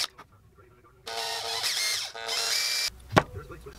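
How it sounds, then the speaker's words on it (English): Small power drill boring pilot holes into handmade ice fishing lures, two steady whining bursts of about a second each, close up, with a sharp clack and faint handling noises between them. "So I gotta drill down just a little bit deeper with that"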